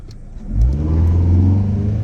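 A 2017 Chevrolet Sonic 1.8 engine fitted with a cold air intake revs up sharply and holds a loud, deep roar, close by, with no talking.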